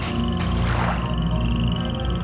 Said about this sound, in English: There's the big frogs.